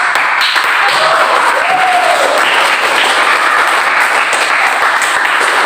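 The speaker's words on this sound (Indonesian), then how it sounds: "Beri aplaus kepada kelompok." A school class claps loudly and steadily for a presenting group, sustained close applause running unbroken throughout with faint voices underneath.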